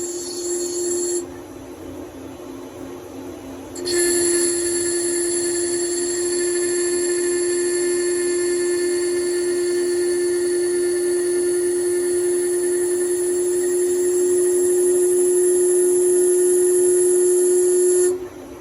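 A Nakamura CNC turning center cuts a metal part, making a loud, steady high-pitched machining whine with a brief dip near the start. The sound holds for most of the clip and then stops abruptly, with no talking.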